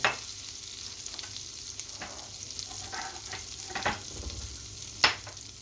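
Butter sizzling in a pan as cooking of bulgur with tuna begins, a soft continuous frying hiss with occasional clinks and a sharp utensil tap near the end.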